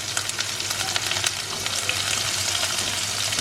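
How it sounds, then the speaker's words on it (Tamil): Small onions (shallots) sauté in a pan for a coconut milk mutton curry, giving a close, steady crackling sizzle throughout with no voices. "ஸோ இது வந்து ப்ரௌனாலாம் வதங்க வேண்டாம், இது ஒரு 2 மினிட்ஸ் வதங்கட்டும்"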